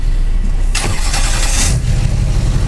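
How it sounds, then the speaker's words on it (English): A 2005 GMC Duramax diesel truck with bigger injectors, a different turbo and a high-flow kit cranks and fires up, its loud, close engine catching into a steady rough rumble. "So it's a 2005 GMC Duramax."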